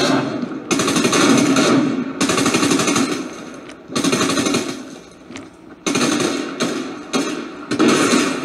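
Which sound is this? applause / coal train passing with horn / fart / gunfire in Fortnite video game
gunfire in Fortnite video game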